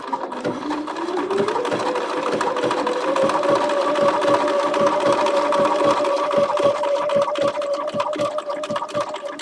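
A Bernina sewing machine runs in a continuous stitching burst, its motor whirring up to a steady hum over rapid rhythmic needle clatter, loud and close with no voices.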